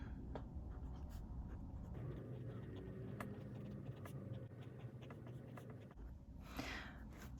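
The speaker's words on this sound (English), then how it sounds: "I just have a little sticky note and I write cash breakdown" A pen scratches across a small sticky note, writing out a cash breakdown in short, quiet strokes and taps close by, over a faint low room hum with no talking.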